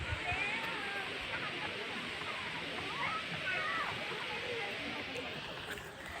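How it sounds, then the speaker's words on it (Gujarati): Waterfall at Mahabaleshwar heard up close, a loud, steady roaring rush of falling water filling the whole scene without letup. "અને આ ધોધ જો નજીકથી બતાવું."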